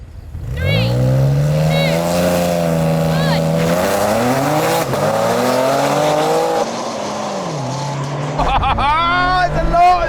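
BMW M cars, among them the M2, M3, M4, M5, M8, X3M, X5M and XM, launch in a drag race with loud close engine roars rising through gear shifts, while a voice talks over them.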